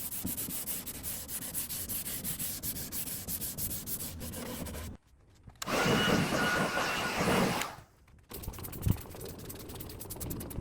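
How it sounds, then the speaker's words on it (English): Scuff sanding of old wooden dresser drawers by hand: a steady, continuous rasping rub with brief pauses between passes, one louder, brighter stretch of scrubbing in the middle, close up and with no talking. "I'll give them a nice scuff sanding and a good cleaning"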